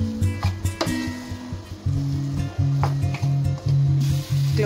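Carrots, potatoes and other vegetables stirred in a hot pan for chicken empanada filling, with a steady sizzle under repeated scraping and clattering strokes of the utensil, close and fairly loud.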